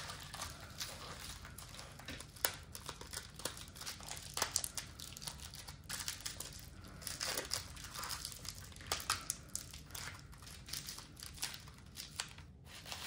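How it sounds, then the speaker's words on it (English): Thick, squeaky bubble wrap crinkles and crackles while an order is being wrapped, with irregular close rustles and small pops throughout, quiet and without talk. "This bubble wrap is very squeaky."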